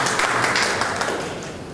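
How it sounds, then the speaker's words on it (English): A book launch audience claps in a brief, dense burst of applause, steady and fairly loud for under two seconds with no talk over it. "A round of applause, everyone."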